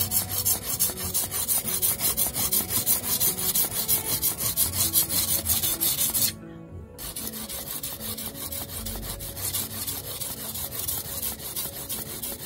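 A sickle blade with a broken tip is sharpened against a grinding stone in quick, repeated rasping strokes. A brief pause comes midway before the scraping resumes slightly softer, all close up with no talking.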